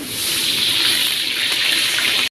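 Brinjal pieces hit a hot pan with oil, setting off a loud, close, hissing sizzle that holds steady for about two seconds and then cuts off abruptly; no one speaks.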